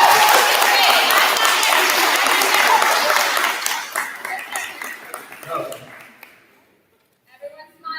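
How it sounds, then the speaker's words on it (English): A crowd gives a big round of applause for a fifth grade graduating class, dense loud clapping that thins out and tapers to scattered claps before fading, then a few voices resume. "Give them a big round of applause."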